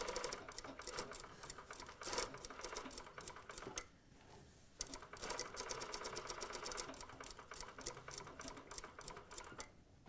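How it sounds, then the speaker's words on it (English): A sewing machine stitches a slanted side pocket on a pair of pants, starting with a back tack: a steady, rapid mechanical whir of needle strokes, loud and close, with a short slowdown near the middle before it resumes. "We start sewing, back tack up the top."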